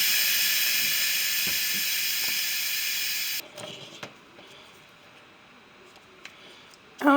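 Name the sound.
steam released from Instant Pot pressure cooker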